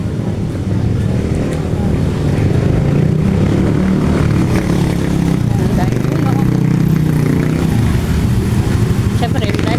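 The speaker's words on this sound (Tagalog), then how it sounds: "andito na tayo sa maraming tricycle. Maingay na." Heavy street traffic crowded with motorized tricycles, a continuous loud engine rumble and drone with passing vehicles, up close, while people talk over it.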